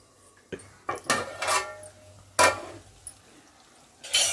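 Rasam with coriander powder being stirred in a cooking pot: a few loud metallic clanks and scrapes of a spoon against the pot, spaced irregularly, close and without speech.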